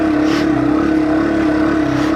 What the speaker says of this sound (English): Over the sound of the Tdub engine,